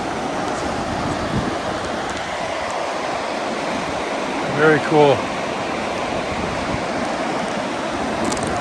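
A river rushes steadily behind a guest house in Nepal, a broad constant hiss of flowing water close by. Someone speaks briefly midway over it.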